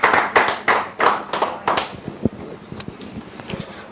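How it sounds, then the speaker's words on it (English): Applause for a speaker at a debate, a handful of people clapping in quick uneven bursts that fade out into scattered taps within a few seconds. "A round of applause as she comes on."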